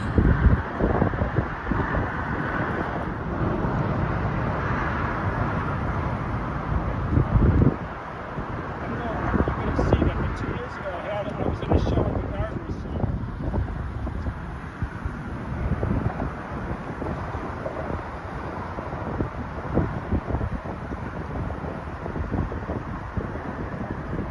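Wind blowing outdoors by the Calumet River, a continuous rough rumble of gusts buffeting the microphone, with people talking and possible distant traffic underneath.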